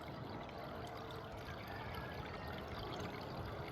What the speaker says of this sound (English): you can see the stream is still flowing here